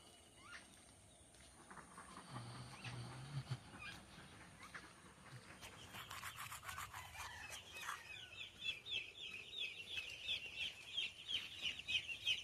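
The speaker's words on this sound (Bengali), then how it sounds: "চলো একবার পোলট্রি ফার্মের ভিতরে যাই।" Chickens cluck and peep inside a poultry farm housing about 1800 three-day-old birds, a faint, busy chorus of chirping that grows livelier toward the end, with low background rumble.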